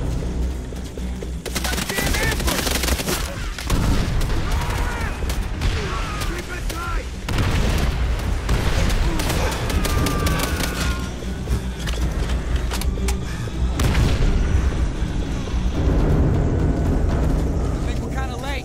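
Video game combat with continuous gunfire, machine-gun bursts and artillery explosions, loud and dense throughout, with a voice talking over the battle.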